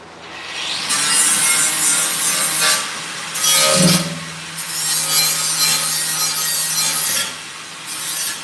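Rough, continuous rasping cut with a tool while making a hole for an aluminum fuel tank for a 1961 Ford F100, loud and close, in long bursts with short pauses between strokes.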